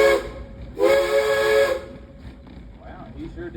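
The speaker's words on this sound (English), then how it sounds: "Ichabod, give us a couple more toots on that whistle" A steam train's whistle gives two loud toots, a short one followed by a longer sustained blast, then fades into rumbling background with faint voices.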